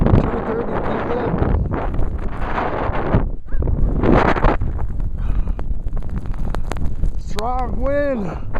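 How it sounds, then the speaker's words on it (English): Strong wind roars during an April blizzard, a loud, steady blast that buffets the microphone throughout, with a voice briefly heard under the gusts. "Strong wind."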